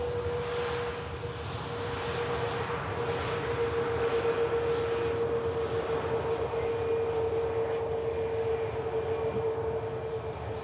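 A Boeing 737 Max rolls out along an airport runway, its steady jet engine roar loud and continuous throughout with a sustained tonal whine riding over broad rumbling noise, no voices present.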